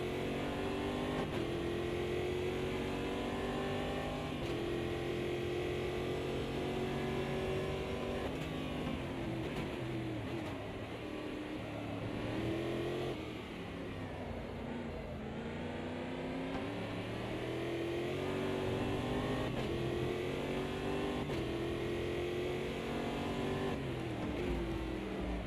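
A race car engine in Automobilista 2 holds a continuous loud roar with shifting pitch as it accelerates and carries speed through a race. No voices are heard over it.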